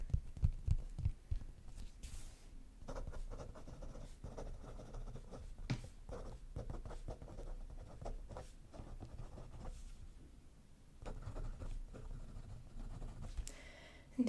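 A pen scratches and scrawls across paper in a quiet ASMR setting, close and soft, with continuous strokes and brief pauses between words.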